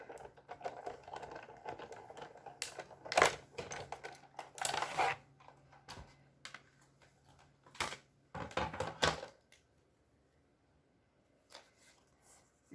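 A die-cutting machine feeds an embossing folder and paper sheet on its platform through its rollers, making a series of clicky, rattling cranking bursts with short pauses, then quieting near the end; no one speaks.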